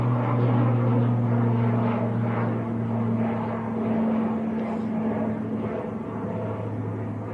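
An Aer Lingus airliner bound for Dublin at Manchester Airport, a steady engine drone from a moderate distance with a low hum and a broad roar that swells slightly and fades.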